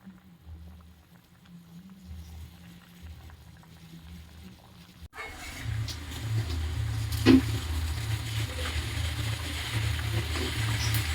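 Banana flower koftas go into a boiling vegetarian curry: quiet at first, then a sudden rise into a steady bubbling simmer with one brief clink midway.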